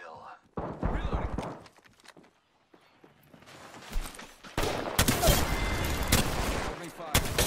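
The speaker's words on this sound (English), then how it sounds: "Enemy fire." Enemy gunfire in Apex Legends erupts as bursts of rapid shots, loudest in the final few seconds, with a player's voice talking over the earlier part.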